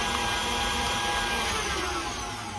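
Electric hand mixer beaters whir steadily through lemon cookie dough, a continuous close motor drone with a slight drop near the end and no talking.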